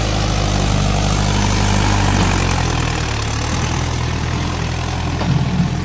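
Loaded sand-hauling vehicle with a heavy diesel engine, a loud, steady low rumble close by that slowly fades as it drives off in a village setting.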